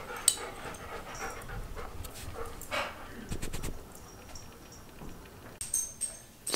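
A dog indoors pants in soft, uneven breaths, close by and fairly faint, with a few brief louder rustles and bumps mixed in.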